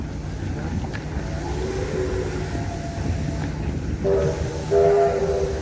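A train rumbles steadily nearby at the Newport Workshops open day, with a horn sounding in sustained tones near the end.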